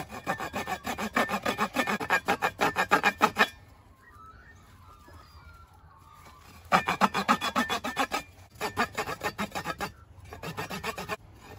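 The serrated edge of a cheap $8 survival shovel saws through wood in rapid, rhythmic rasping strokes, close and loud. Two bursts of strokes are split by a pause, then a shorter run follows.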